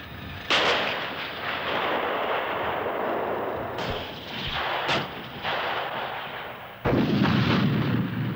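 A Challenger tank's 120mm L11A5 rifled main gun fires, loud heavy booms with sharp onsets near the start and end, separated by long rumbling, rolling noise that fills the whole stretch.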